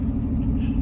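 A Toyota 1JZ engine fitted in a Lexus IS300 runs with a steady, deep, close rumble for a brief moment, with no other sounds on top.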